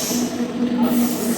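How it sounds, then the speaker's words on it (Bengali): New Delhi Rajdhani Express (12313) rolling into Durgapur station, a steady rail rumble with a faint hum from the wheels, heard briefly and alone. "তো ঢুকছে নিউ দিল্লি রাজধানী এক্সপ্রেস।"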